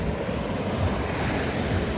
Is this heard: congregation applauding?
no